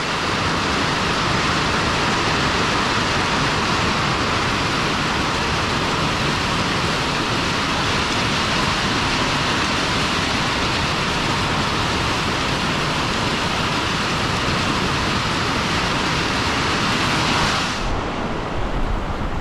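Flash-flood downpour lashes a farm yard in a loud, steady, broadband roar of rain that runs unbroken for about eighteen seconds before cutting off abruptly.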